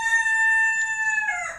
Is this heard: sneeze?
no